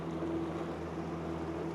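A bass fishing boat idles on a lake, its engine a low, steady hum with a faint tonal drone that stays even and continuous.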